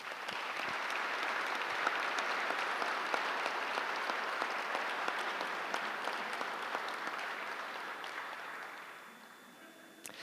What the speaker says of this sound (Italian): io vi concederei un applauso corale